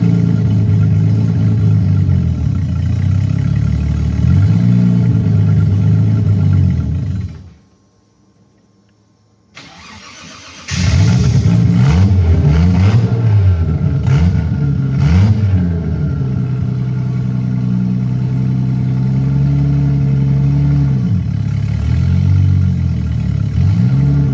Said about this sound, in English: Running it again right now, taking it through the gears, seeing if the transmission works that I just rebuilt